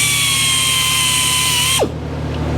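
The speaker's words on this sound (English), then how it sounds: "So if you're running a diamond sharpener, this is a dressing stick." A diamond sharpening wheel runs with a steady high whine, its pitch dropping sharply as a dressing stick is pressed against it to clean carbide from the grit, leaving a rougher grinding noise afterward.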